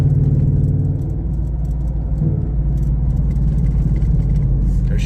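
A green car engine rumbles loudly and steadily nearby, with a low idling drone and a slight swell as it revs while passing.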